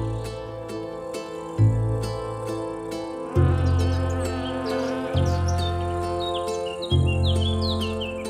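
Bees buzz around flowering acacia trees in a Romanian forest corridor, a steady insect drone mixed with scattered bird chirps and a low rhythmic hum that swells in regular pulses.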